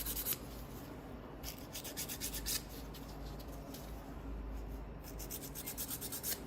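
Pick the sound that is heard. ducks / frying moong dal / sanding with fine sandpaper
sanding with fine sandpaper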